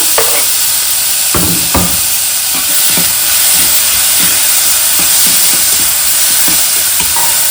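Tomato and onion sauté in a pan for a bean poriyal, giving a loud, constant sizzle and hiss, with a spoon scraping and stirring in clear knocks throughout and no voices.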